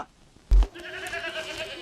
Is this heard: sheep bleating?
yes